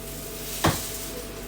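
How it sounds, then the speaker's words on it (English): Gluten-free French toast goes onto a hot griddle with a brief, sharp sizzling hiss and a soft contact thump over a constant low kitchen background. "I really, really hope you guys can hear the sizzle of this because it sounds so cool when you put it on."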